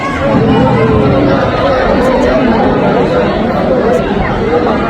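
Dense crowd of devotees at Mahakal temple in Ujjain, a loud continuous babble of many overlapping voices with no single speaker standing out.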